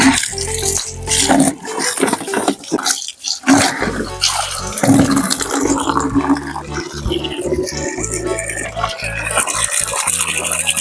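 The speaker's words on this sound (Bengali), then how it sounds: "একটু জলটা পড়ে যাক, তারপর জলটা বালতিতে ভরবো।" Tap water running into a bucket at home, a loud splashing rush with gurgling changes and a brief pause, then steady pouring, with a voice speaking over parts of it.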